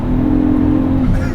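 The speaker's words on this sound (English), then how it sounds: "I want to be closer to that beautiful exhaust note" A 500 WHP all-wheel-drive Volkswagen EOS holds a loud, close, steady exhaust drone while revving, lasting just over a second.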